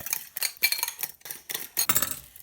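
A utensil clicks and scrapes against a pan in quick, uneven strokes while a stinging nettle omelette mixture is scrambled, light metallic taps repeating close by.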